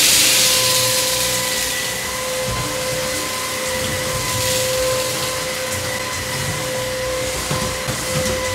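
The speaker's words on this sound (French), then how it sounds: "je prends l'aspirateur et je vais mettre la puissance à fond" An ILIFE W90 cordless 2-in-1 vacuum cleaner runs at maximum power, giving a loud, steady motor whine with airy hiss and constant tones that hold through the whole stretch with no talking.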